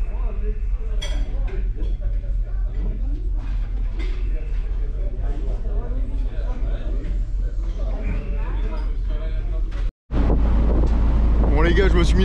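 Strong wind buffets a microphone on a ship at sea on the Baltic, a constant loud roar with faint clinks and someone speaking over it, dropping out briefly before an even harsher gust.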